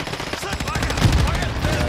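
Rapid bursts of automatic gunfire in a fast-paced multiplayer shooter game, loud and dense rattling volleys that run continuously under the action.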